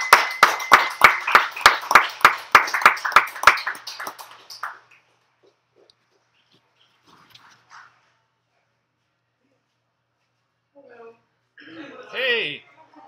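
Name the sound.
audience applause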